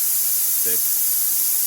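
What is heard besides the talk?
plasma cutter post-flow air hissing through the nozzle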